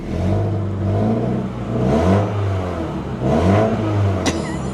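A Chevy Tahoe engine with an exhaust leak revs repeatedly in several rising and falling swells, loud and close, with a ticking rasp under the engine note and a brief knock at the end.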